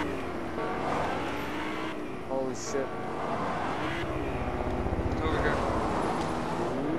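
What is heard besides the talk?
helicopter flying overhead in the video game Fortnite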